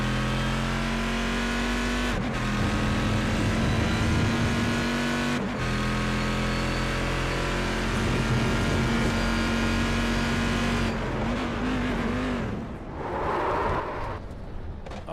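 An onboard sports sedan engine in a sim racing game at Phillip Island, loud and steady, holding high revs with brief gear-change dips and a sputtering drop near the end.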